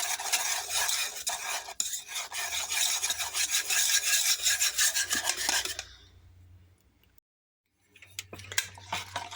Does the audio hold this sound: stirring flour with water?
yes